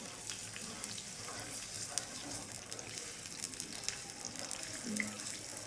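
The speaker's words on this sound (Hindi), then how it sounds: "अब हम इसमें अदरक लहसुन का पेस्ट डाल देंगे" Ginger garlic paste fries in hot cooking oil while a chicken kadhai is being made, giving a steady, even sizzle and hiss that holds for several seconds without a break.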